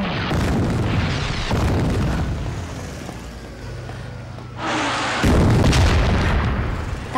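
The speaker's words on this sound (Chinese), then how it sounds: "日本对重庆的大轰炸又开始了" Heavy bomb explosions from a Japanese night air raid on Chongqing: deep, rumbling booms that swell and roll one after another, loud and close, with a fresh blast bursting in near the end.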